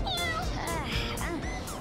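A kitten meows several times in quick succession, close and clear. The high, wavering cries overlap with no pauses between them.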